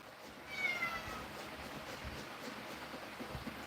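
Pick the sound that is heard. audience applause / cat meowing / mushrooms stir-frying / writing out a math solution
cat meowing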